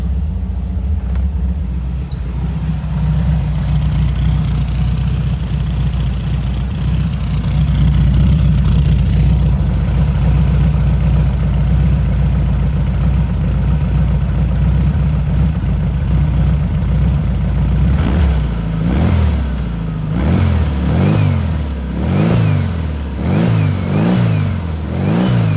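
A Porsche 356 Speedster replica with a dual tip exhaust idles with a loud, steady low rumble for a long stretch, then is blipped through several sharp revs near the end.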